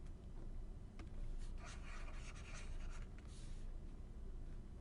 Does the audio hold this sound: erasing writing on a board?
yes